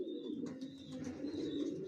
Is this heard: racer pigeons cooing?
yes